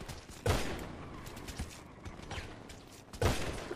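Gunfire in the GTA video game, with two loud, sharp bursts near the start and end and a few smaller shots in between, heard over steady background noise.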